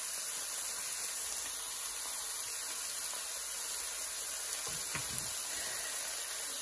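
Shrimp sizzling in a frying pan, a soft, even hiss of hot oil held at a low level throughout, with a faint thump of handling midway.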